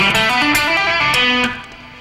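A fast electric guitar lick with hammer-ons and pull-offs, a quick run of legato notes with light distortion, played alone and fading on the last note.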